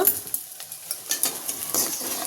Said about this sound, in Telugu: ఇప్పుడు ఇంత బాగా ఫ్రై అయ్యాక ఇంకొంచెమే ఫ్రై అవ్వాలి కాబట్టి ఇప్పుడు ఉప్పు వేసుకుందాం